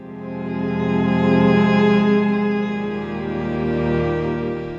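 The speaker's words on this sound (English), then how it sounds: "So for the pad string section side, it sounds like this with everything" Sustained layered string-section pad from the Joylin Strings VST, a smooth legato chord swelling in and gently fading, rich harmonics held steadily with soft attack and no voices.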